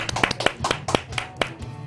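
A small studio group welcomes a news reporter with a quick, uneven burst of about eight sharp claps, close and fairly loud, with no talking.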